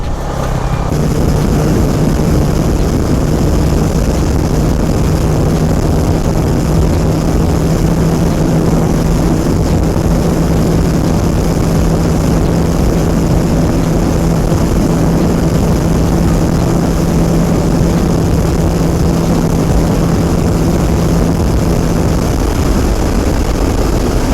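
Honda CBR 150R motorcycle engine held at top speed in sixth gear on an expressway, a loud, steady continuous drone with constant wind rush that stays unbroken for the whole stretch.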